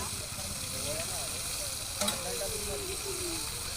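Bottle gourd pieces boiled in a pot while ingredients for dal rasam are tipped in, giving a steady soft sizzle and hiss with a brief clatter near the middle, no talking.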